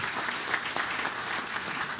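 Sustained applause from a banquet audience at an awards dinner, steady and dense with no voices over it, holding at an even level throughout.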